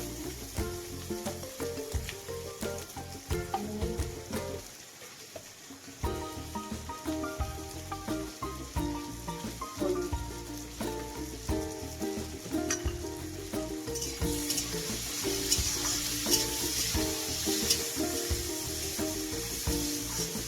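Vegetables sizzle and fry in a pan as spicy semolina is cooked, a steady dense crackle with stirring clatter throughout, briefly dropping away midway before resuming loud and bright.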